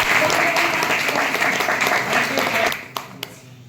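Audience at a Hindi speech event breaking into loud, dense applause that holds steady for over two seconds, then fades to a few scattered claps.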